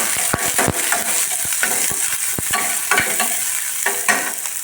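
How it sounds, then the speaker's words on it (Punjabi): Onions sizzling in a pan while a spoon scrapes and stirs them for tomato-sauce masala Maggi, a steady frying hiss broken by sharp clinking stir strokes, close and loud with no talk. "ਗੰਡੇ ਨੂੰ ਪਾਤੇ ਆ ਹੁਣ ਮੈਂ ਚੰਗੀ ਤਰ੍ਹਾਂ ਲਾ ਦੇਣਾ"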